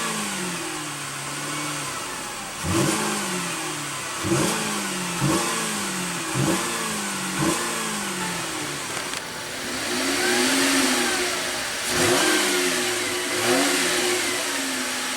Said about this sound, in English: let's go ahead and rev up the V6 and see what kind of soundtrack she makes